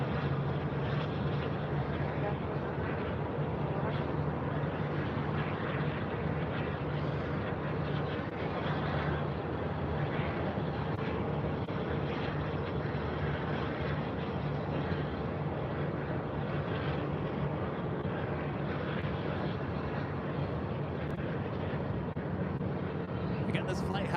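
An American Airlines Boeing 737-800 at Phoenix airport, heard as a steady, loud broadband jet roar that holds without a break for the whole stretch.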